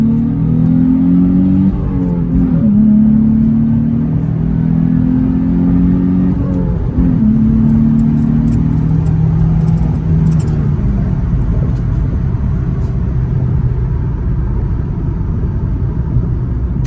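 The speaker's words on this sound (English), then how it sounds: "I'm trying to learn how to rev match." A Nissan 350Z engine drones loud and close from inside the car, its revs climbing and dipping in several blips as the driver rev matches through shifts, over a constant road rumble.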